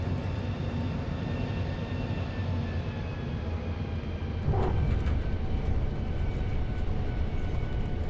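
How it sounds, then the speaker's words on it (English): Airbus A350 airliner in the X-Plane 12 flight simulator landing, a steady broadband engine and airflow roar with faint tonal whine, rising slightly and thudding briefly near touchdown midway through. "The 350 landings always look hard in my opinion."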